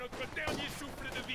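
A sniper rifle shot rings out in a World War II D-Day game match, a sharp report followed by a few further bursts of gunfire, all mixed under ongoing voices.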